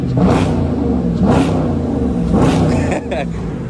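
A nearby car engine revs repeatedly in rising surges, about three bursts, with people talking over it.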